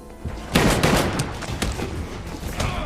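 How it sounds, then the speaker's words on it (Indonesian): Gunfire in the action film Olympus Has Fallen: a loud, dense volley of sharp cracks that bursts in suddenly, then a sustained clatter of shots and thuds that keeps going over a rumbling background. "presiden harus tertembak oleh Yun-sat di perutnya"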